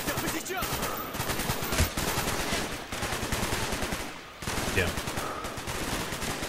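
Dense, rapid automatic gunfire in the Call of Duty: Black Ops game, a Vietnam escape mission, with nearly continuous bursts and a brief lull; a voice speaks briefly over the shooting.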